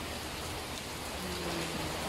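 Heavy rain pouring steadily on an island where people are stranded, a dense, loud, unbroken hiss filling the whole clip with no voices.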